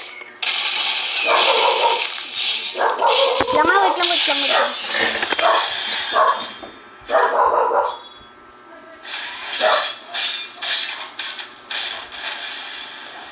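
A dog yips and barks in short bursts amid game sound effects and mechanical clicks, while a person talks briefly over the noise.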